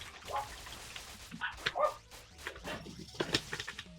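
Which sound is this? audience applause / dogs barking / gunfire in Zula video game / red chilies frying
dogs barking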